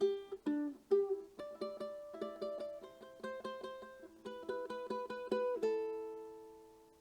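A ukulele plays a rapid run of single notes, repeated quick pairs followed by a ringing open A final note, clear and close.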